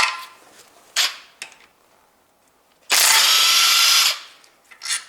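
A power tool runs in one steady burst of about a second while bolts are loosened on a Toyota 1.8 2ZZ-GE VVTL-i engine during timing chain cover disassembly, with shorter clicks and tool knocks before and after.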